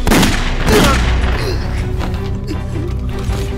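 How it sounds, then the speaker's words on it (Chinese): A loud gunshot booms out in a wartime Chinese kung fu drama, a heavy broadband blast followed by a reverberant, mechanical-sounding tail, with no speech over it. "这明明是你开枪打死的"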